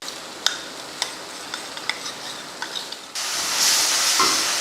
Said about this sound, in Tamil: அதை கொஞ்சமாக தண்ணி ஊற்றி கலந்துடலாம்